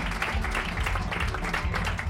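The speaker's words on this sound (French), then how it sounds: "On peut les applaudir bien fort." An audience at a press conference applauding, a thick, continuous wash of many hands clapping at steady intensity for a couple of seconds.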